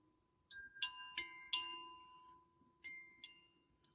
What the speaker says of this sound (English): And when I shake it, it sounds like this.